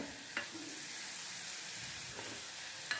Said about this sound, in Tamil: நான் சின்ன தக்காளியாக ரெண்டு தக்காளி போட்டிருக்கேன் அதையும் நம்ம வதக்கி விட்டுக்கலாம்